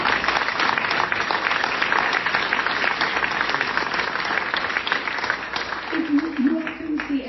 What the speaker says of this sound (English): We got a clap.